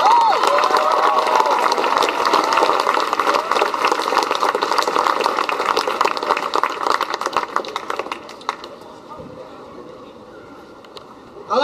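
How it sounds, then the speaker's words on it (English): Crowd applause at an outdoor evening march, loud and dense with cheering voices mixed in, continuing for several seconds before thinning out into quieter background noise. "Give a round of applause."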